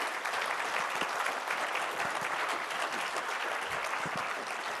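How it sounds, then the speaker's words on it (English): Steady applause from a conference audience at a forum panel fills the room, even and sustained throughout, a soft wash of many hands clapping without pause. "I would like to ask you to send a big round of applause for our two panelists."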